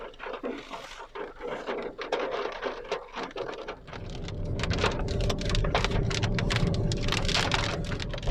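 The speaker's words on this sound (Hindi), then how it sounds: "बारिश तेज़ हो गई है" Heavy rain pours in Makkah, lighter patter at first and then a sudden dense, loud roar of falling water from about four seconds on, continuous and close with scattered sharper drop impacts.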